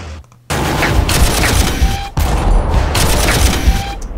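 Loud bursts of video-game gunfire in Warhammer 40,000: Armageddon, with two dense volleys of rapid shots and explosive impacts striking units, separated by a brief pause.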